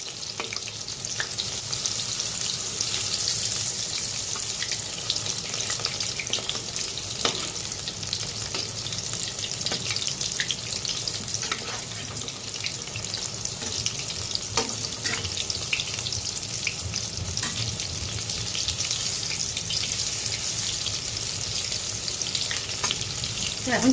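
Ridge gourd fritters fry in refined oil in a wok and are flipped one by one; a steady, close sizzle carries throughout, punctuated by occasional scraping clicks of the utensil, with no voices.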